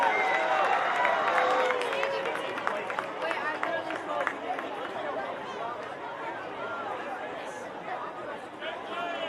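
Stadium crowd applauds and cheers for the Campbell County Cougar Band's performance at a Sevier County vs Campbell County game, a steady wash of clapping and chatter with voices mixed in, loud and sustained throughout.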